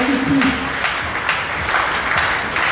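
Audience applause at an outdoor athletics gala, a steady wash of clapping hands from a crowd lasting a few seconds, with faint voices mixed in underneath.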